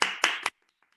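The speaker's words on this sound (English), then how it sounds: "I'm going to clap." Three sharp, close hand claps come in quick succession at a storytelling festival, then give way to near silence with only faint tiny ticks.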